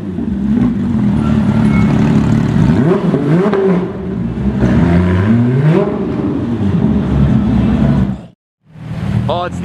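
A Ferrari F430 with an Akrapovič aftermarket exhaust revs hard several times, its loud exhaust rising and falling in sharp sweeps before cutting off briefly, then revving again.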